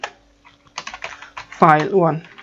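Keys clatter on a computer keyboard in short bursts of typing while a file name is entered during a GitHub tutorial, followed by a voice speaking close by.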